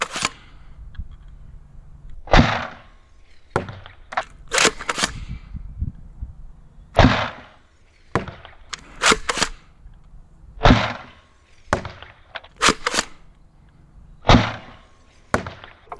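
A Sabre M20C airsoft gun fitted with a bearing scar barrel fires at a target, sharp snappy shots at irregular intervals, roughly a dozen over the stretch, close and crisp with faint pellet impacts between, no voices.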